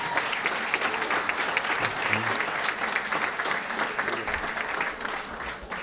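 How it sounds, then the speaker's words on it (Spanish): A crowd at a municipal government morning press conference in Altamira, Mexico, applauds a military shooting platoon. The clapping is dense, steady and continuous throughout, with no voices. "fuerte aplauso para ellos"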